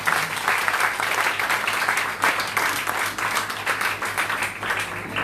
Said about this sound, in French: je vous demanderai vraiment d'applaudir Eliaou qui est là